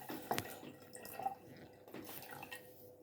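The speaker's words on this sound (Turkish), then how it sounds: "Ondan sonra diğer okuda suyu koyuyorsunuz." Water from a jug poured onto paper arrows, giving a few close, soft drips and small splashes over a quiet room background.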